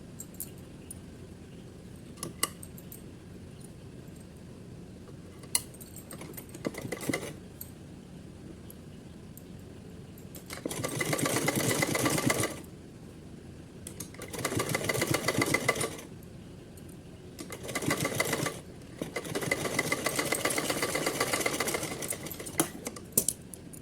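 Sewing machine running a straight seam on fabric in bursts of fast, buzzing stitching separated by short pauses, with light handling clicks in between.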